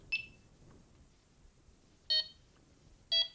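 A Delkim carp-fishing bite alarm receiver gives three sharp, high electronic beeps: one at the start, then two more about a second apart, clear and close against a quiet background.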